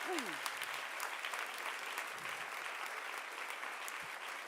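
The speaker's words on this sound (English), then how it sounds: "give him a big clap" Soft, distant audience applause at an awards speech honouring a leadership prize, continuous scattered clapping with a few brief voice-like murmurs at the start.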